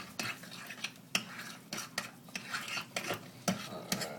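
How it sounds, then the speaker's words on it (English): A spoon stirs pumpkin spice into a pumpkin strudel filling in a bowl, producing a rhythmic series of close scraping and clinking strokes, roughly two per second, with no talking. "Add some of that in. Give it a good stir. Mix it all in."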